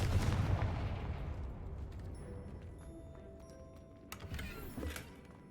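A Confringo fire-blast spell cast in the video game Hogwarts Legacy bursts out loud and booming at the start, then fades into a low rumbling tail with a couple of smaller blasts near the end.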